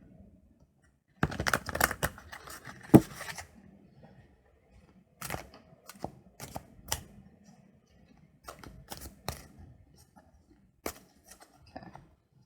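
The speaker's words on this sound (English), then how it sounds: "And do one more shuffle." Soft papery riffling and quick card snaps come in short bursts with quiet gaps between them, close by and with no voices.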